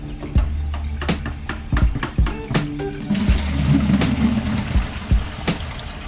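Tap water runs steadily into a container to mix color film processing chemicals at lukewarm room temperature, with a few clunks and knocks of handling over the flow. No one speaks.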